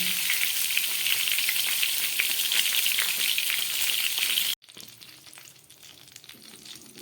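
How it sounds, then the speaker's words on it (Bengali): Eggplant slices frying in a pan for begun paturi make a loud, dense sizzling crackle that cuts off abruptly, followed by quieter frying and scattered faint clinks. "বেগুনগুলোকে ভাজা বসিয়ে দিয়েছি"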